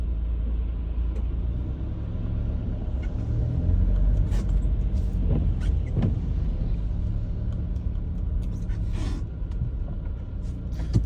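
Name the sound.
road traffic heard from a car near a roundabout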